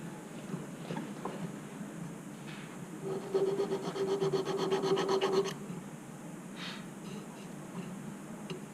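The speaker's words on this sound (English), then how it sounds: "So it's a half round file?" Half-round file rasping on a silver keyhole jewellery clasp, a soft rubbing scrape lasting a couple of seconds over quiet workshop background.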